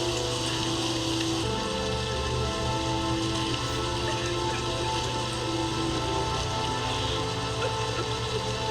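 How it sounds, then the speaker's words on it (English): Steady heavy rain hisses continuously in a rainstorm scene from a TV series finale, dense and even, layered with low sustained drama-score tones. "The rain's gonna put it out."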